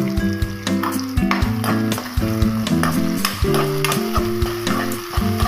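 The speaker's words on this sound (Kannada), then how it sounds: "ಚೆನ್ನಾಗಿ ಬೇಯಲಿ ಟೊಮೊಟೊ ಎಲ್ಲ ಚೆನ್ನಾಗಿ ಫ್ರೈ ಆಗಿ." Tomatoes fry in a pan for upma, with a constant bubbling sizzle under repeated spatula stirs and scrapes close by.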